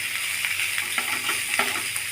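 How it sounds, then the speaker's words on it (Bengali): Chopped onion stalks fry with onions in a hot pan, giving a soft, continuous sizzle with a few faint stirring scrapes. "পেঁয়াজকলিগুলো কিছুক্ষণ ভাজা ভাজা করে নিব।"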